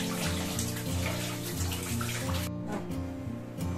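Prawn innards are rinsed under a steady stream of running tap water, a continuous close splashing and gurgling that fills the short clip with no voices.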